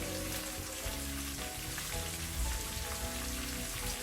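Chopped white onions sizzle in hot oil in a home kitchen, giving a soft, continuous frying hiss with no talking.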